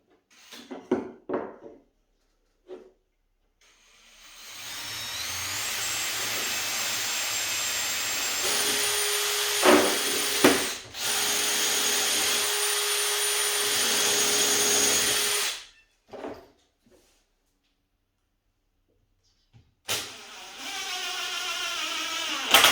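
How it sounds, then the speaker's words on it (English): A power drill bores a pilot hole into wood for a DIY folding camping table, a steady loud whirring hum lasting about ten seconds with a brief pause, bracketed by handling clatter and quiet gaps. "Perhaps I should drill a hole first."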